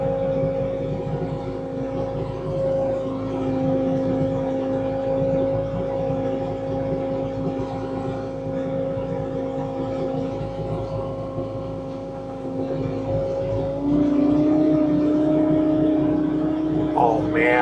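A Bobcat T66 track loader running a snowblower in winter drones steadily with a tonal engine hum, then rises in pitch and loudness toward the end, with no talking.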